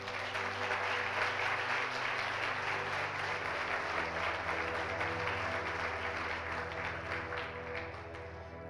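A church congregation applauds to honor Jesus with sustained, dense clapping that fills the room, a steady wash of many hands that fades slightly toward the end.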